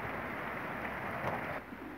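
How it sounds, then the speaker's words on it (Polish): Racing pigeons coo softly in outdoor aviaries while bathing after a brief rain shower, a low murmuring coo against a steady background hiss. "w wolierach się gołębie kąpają"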